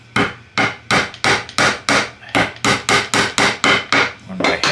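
A hammer drives a cable staple into a wall with about a dozen sharp, evenly spaced blows in quick succession, close and loud, with no speech.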